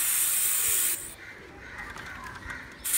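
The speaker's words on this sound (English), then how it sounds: "Now spraying WD-40 at all the places where there's a chance of getting rusted" A loud WD-40 aerosol spray hisses for about a second onto bike parts, pauses, then sprays again briefly at the end, close and sharp.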